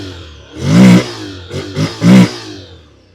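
A 2026 Honda NC750X motorcycle engine is revved three times close by, each burst climbing sharply then dropping back, with short pauses between.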